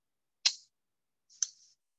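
Two sharp, isolated keystrokes on a computer keyboard, close and crisp, about a second apart in otherwise silent surroundings.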